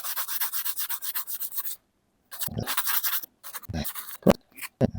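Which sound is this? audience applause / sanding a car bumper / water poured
sanding a car bumper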